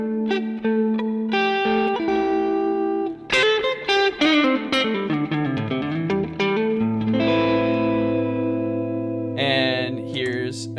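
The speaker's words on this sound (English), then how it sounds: "So here's some reverb vibrato." Electric guitar chords and single notes ring out with a wavering pedal vibrato and spacious reverb, loud and up close with no talking.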